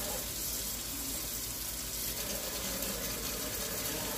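Cold water pours steadily from a kitchen tap into a cup, a constant broad gushing hiss that holds evenly from start to finish with no talking.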